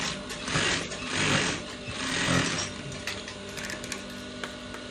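A sewing machine stitches down the excess fabric on a trouser welt pocket, a steady mechanical whirring and rattling in several close bursts that swell and ease over a few seconds.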